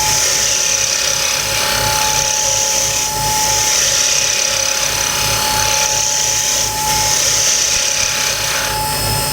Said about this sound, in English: so I'll just stop the lathe now and have a feel